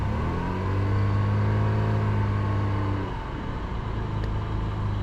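A boat's outboard motor runs with a steady low drone, rising slightly as it is revved, loud and close with no talk over it.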